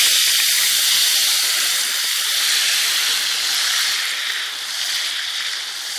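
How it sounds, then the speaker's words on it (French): A very hot pan is deglazed with wine vinegar and erupts into a loud, close, continuous steamy hiss that slowly eases off over several seconds. "déglacer votre poêle bien chaude au vinaigre de vin"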